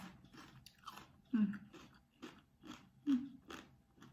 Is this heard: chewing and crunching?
yes